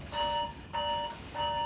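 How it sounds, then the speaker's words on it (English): A mobile phone rings with three short repeated electronic tone bursts separated by brief gaps, clear but modest in level, with no talking. "Oh, that's my phone."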